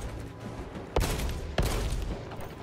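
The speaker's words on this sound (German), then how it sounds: "Halbautomatische Präzisionspistole." A semi-automatic precision bolt pistol fires in Warhammer 40,000: Space Marine 2, two sharp separate shots over a low ambient rumble of game noise.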